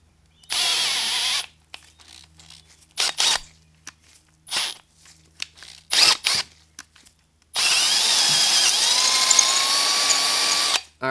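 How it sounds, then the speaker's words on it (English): A power drill bores into a motor mount bolt on a Mercedes SL55 AMG M113k, several short whirring bursts and brief pauses followed by a longer continuous high whine near the end, close and loud. "you're just gonna first take your drill bit, and then just drill into it"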